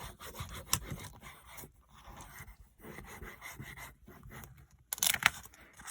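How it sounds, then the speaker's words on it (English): A bone folder is rubbed over vellum paper in short, irregular rasping strokes with pauses between, close and fairly quiet. "And again, I use my bone folder."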